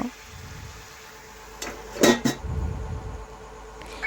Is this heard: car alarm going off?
no